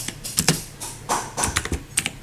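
Typing on an Imperion Mech 7 mechanical keyboard produces a brisk, uneven run of close, crisp key clacks, with no one talking.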